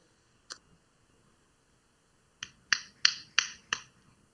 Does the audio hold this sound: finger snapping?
yes